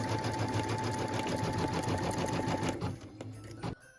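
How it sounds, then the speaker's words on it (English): A sewing machine runs steadily, stitching a placement line on a felt Christmas ornament, a loud continuous whir that slows and stops near the end. "What we're stitching now is the end bobble placement line."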